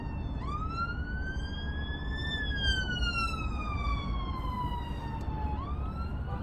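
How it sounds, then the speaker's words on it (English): An emergency vehicle's wailing siren on the M25 motorway rises then slowly falls in pitch over a steady roar of traffic, loud and close throughout. "Keep your sirens on, mate."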